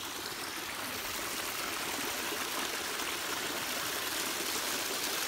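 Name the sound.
mountain stream water flowing, Great Smoky Mountains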